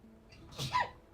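A single quick sneeze, fairly close, over a quiet background.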